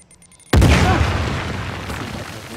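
A grenade detonates in the video game Uncharted: The Lost Legacy, one sudden loud close boom that rumbles and slowly fades over the next two seconds, no talking.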